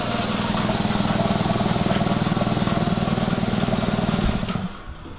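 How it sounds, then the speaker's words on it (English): A freshly cleaned and repainted air compressor runs with a loud, steady rhythmic motor chug close by, then winds down near the end. "and then the other compressor kicks on."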